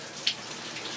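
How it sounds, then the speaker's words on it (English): Rain falls outside in a soft, steady hiss with scattered drop ticks and one brighter splash near the start, faint and continuous with no voices. "It's really raining"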